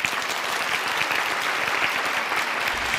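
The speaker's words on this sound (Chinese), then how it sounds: "来，热烈的掌声送给十二位老板。" Studio audience applause on a television job-hunting show, steady and full, with many hands clapping together at even loudness throughout the short stretch.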